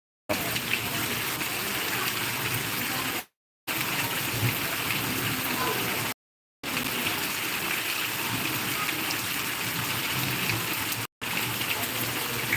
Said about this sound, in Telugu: కొంచెం తగ్గుముఖం పట్టింది వర్షం